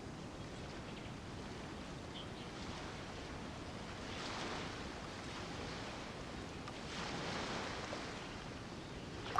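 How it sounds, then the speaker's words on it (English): Ocean waves wash ashore in Genshin Impact, a steady broadband surf hiss that swells into two broader surges partway through, with no voices present. "You mean the sound of the ocean?"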